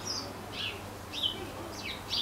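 Birds chirp in a tree outdoors in warm weather, several short high calls repeating every half second or so, fairly clear over a low steady background hum.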